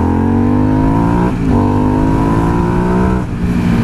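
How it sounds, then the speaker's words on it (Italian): An Aprilia Dorsoduro 750 twin-cylinder motorcycle engine revs loudly and close, rising in pitch twice with brief dips between pulls. "Il 2 cilindri, come potete ben sentire, prende subito ai bassi regimi"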